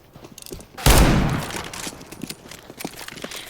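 A single loud R8 revolver shot fires in Counter-Strike: Global Offensive on the Dust II map, a sharp blast that rings out and decays over a second, followed by faint clicks and handling noises.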